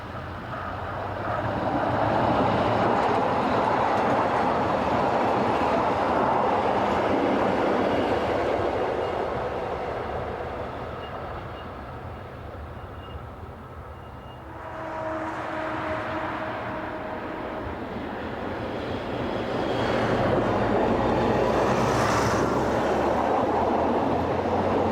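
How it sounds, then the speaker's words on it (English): Diesel locomotive number D14, one of two bought for heavy timber trains, hauls a passenger train past, a steady loud rumble that swells, eases, then builds again, with no voices. "Even brand new diesel number D14, one of two acquired to haul the heavy timber trains,"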